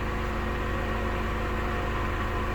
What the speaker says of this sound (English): This is just idling the truck at the moment.